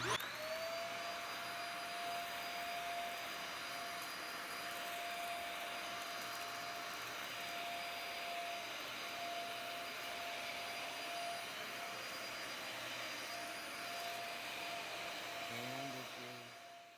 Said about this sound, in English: The vacuum is working as intended